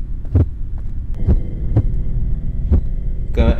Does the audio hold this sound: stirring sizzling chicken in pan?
no